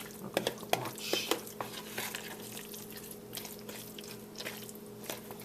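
A tuna fish cake mixture is mixed by hand in a bowl, giving soft wet squishing and stirring with a few sharp clicks against the dish, close and fairly quiet.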